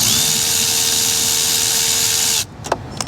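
A power tool spins out an 8 mm bolt from the dash of a 2023 Ford Tremor pickup. A steady, close, whirring drone runs for over two seconds, then stops, followed by a few small clinks.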